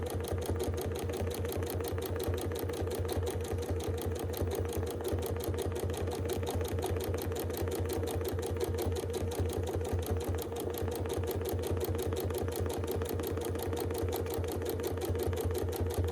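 A sewing machine free-motion quilting a triangle design hums in a fast, steady stitching rhythm that runs continuously and close throughout, with no voices over it.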